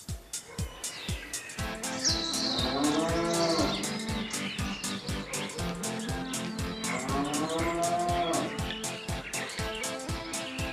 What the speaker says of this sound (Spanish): Esa es una vaca del año 2004, es una vaca que tiene 10 años.